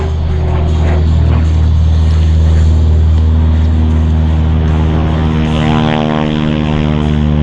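An aerobatic propeller airplane spinning at an airshow gives a loud, steady engine drone that stays continuous and close, with its pitch shifting slightly near the end.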